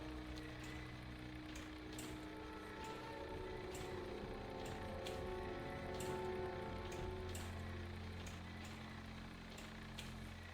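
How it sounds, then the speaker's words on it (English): Rain falls in World of Warcraft as a steady soft patter of drops under a low ambient hum, with occasional sharper drips breaking through the even wash. "Started raining."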